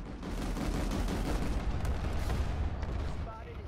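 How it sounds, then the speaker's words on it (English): Flak cannon fire in the PlanetSide 2 video game makes a continuous, dense roar of rapid bursts and booms, loud and sustained throughout with no pauses. "Friendly fired by a flak cannon."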